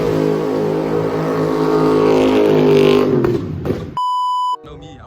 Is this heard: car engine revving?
yes